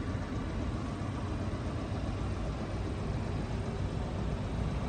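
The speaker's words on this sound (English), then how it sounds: "The engine is running now and you can hear how quiet it is." A steady, low Ford Focus engine rumble at idle, even and unbroken throughout, heard close with no talking.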